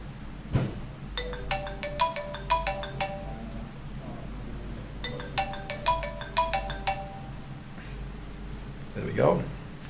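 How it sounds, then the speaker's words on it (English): A mobile phone rings with a repeated electronic ringtone melody, two bursts of rapid chiming notes separated by a pause, fairly faint over a low background hum. "the phone will ring for 15 seconds and then ring out."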